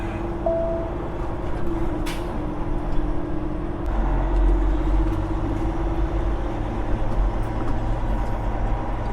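A Peterbilt 389 truck cruises along a bumpy road in St. Louis, its steady low engine drone and road rumble continuous throughout, with a brief clunk partway through and no talking.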